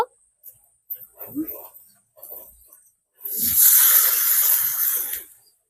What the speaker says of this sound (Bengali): এবার আমি এই তাওয়াতে একটু জল দিয়ে দেব